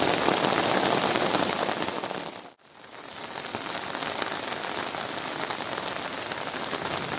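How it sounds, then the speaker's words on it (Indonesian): Heavy rain pours down steadily over a countryside village, a dense broadband hiss with a brief dropout midway before the downpour resumes at full strength, with no voices. "Kalau hujan ngegebret seperti ini teh sahabat"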